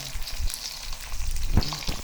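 Crucian carp frying in curry in a 28 cm skillet at home, a continuous close crackling sizzle with a few louder pops and spatters.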